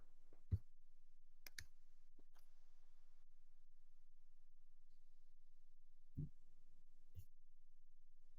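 A few sharp, isolated mouse clicks while working in a software interface, spaced irregularly across a quiet background, close and faint, with no talking.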